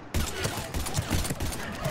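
Gunshots in the sci-fi shooter video game Mass Effect 3, a short dense fusillade of rapid firing, loud and continuous over a brief span.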